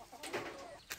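Soft, faint clucking from chickens, a few short calls close together in a quiet outdoor setting.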